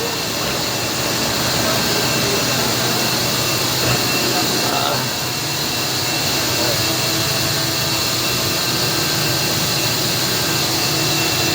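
Industrial chiller unit with a compressor, holding over 500 kg of refrigerant, runs with a loud, steady broadband roar and mechanical hum that fills the whole stretch, as during a preventive maintenance service, with faint talk at times.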